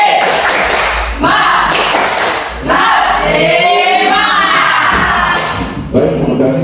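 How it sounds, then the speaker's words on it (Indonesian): A classroom of students performs a rhythmic spirit clap, loud bursts of clapping in a patterned beat broken by short pauses, with children's voices shouting along close by. "Tepuk semangat."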